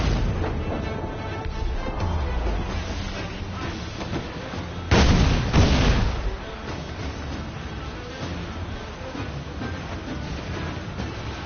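Ship cannons firing during a naval battle in Assassin's Creed Black Flag, a loud heavy volley booming out near the middle over a constant rumbling background of battle noise.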